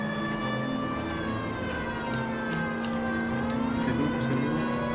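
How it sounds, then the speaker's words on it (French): A police car siren in the video game L.A. Noire wails steadily and loudly, with a sustained rising and falling tone over a low engine rumble and no talk. "Claquer un petit coup de sirène qui me laisse passer"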